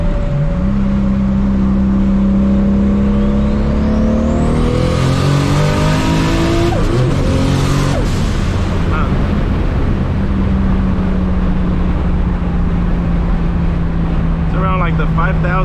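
A 1000-horsepower MKIV Toyota Supra pulls hard at full throttle, engine climbing through the revs in a loud, close roar, dropping briefly at a shift and then winding up again.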